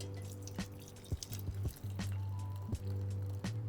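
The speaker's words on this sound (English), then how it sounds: "I actually do want to put all of this stuff into the sieve and kind of squeeze it out" Chicken stock being poured out and the cooked solids pressed through a kitchen sieve: a few soft, wet squishes and drips stand out over a steady low hum, close by and fairly quiet, with no talking.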